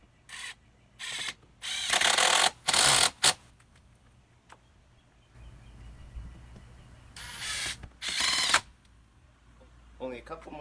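Power drill driving 2-inch screws into a Muskoka chair during assembly, with several loud, close bursts of whirring and ratcheting, some short and some longer, separated by quieter handling noise.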